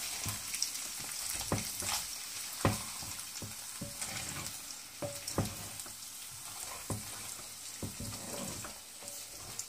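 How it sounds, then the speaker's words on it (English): Egg pieces for egg bhurji scraped and fried in a pan: steady broadband sizzle with a dozen sharp spatula scrapes and taps spread irregularly across, close and fairly loud, no talking. "I'm just scraping a bit to take these big pieces of fried egg"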